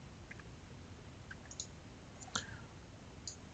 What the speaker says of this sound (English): So I'm pressing G right now, or spacebar.